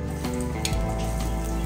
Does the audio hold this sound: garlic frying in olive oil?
yes